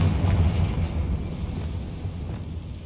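A deep, booming explosion from the Confringo spell in the video game Hogwarts Legacy, loud and heavy at the start, then rumbling away over a few seconds with no talking.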